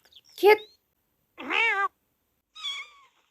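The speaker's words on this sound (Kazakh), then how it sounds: "мысық мяу деді" Three separate cat meows, close and fairly loud, each short with pauses between them.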